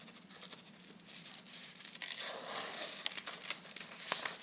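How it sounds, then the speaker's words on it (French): Scissors snip a heart shape out of folded paper, close and fairly quiet, with a steady run of small crisp cuts and paper rustle and no voices. "avec ta paire de ciseaux, tu vas faire un cœur."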